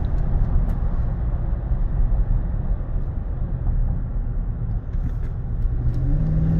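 Inside a GMC Sierra 1500 SLT pickup truck while driving, a steady low engine and road rumble continues, with slight changes in tone as the automatic transmission shifts gears.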